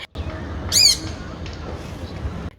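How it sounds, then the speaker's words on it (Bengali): A bird gives a sharp squawking call outdoors under open sky, one short bright burst standing out above a low background rumble, followed by fainter scattered chirps. "পাখিটা কিন্তু আমাকে দেখে আবার ডাকাডাকি করছে"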